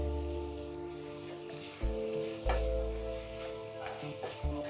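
Banana flower, potato and masala sizzling and frying in a pan, a steady soft crackle with a few louder stirring scrapes, close by and alone.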